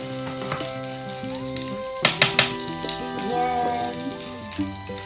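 An egg frying in a frying pan for a homemade breakfast, a steady close sizzle with a few sharp scraping taps from a utensil partway through, no talk.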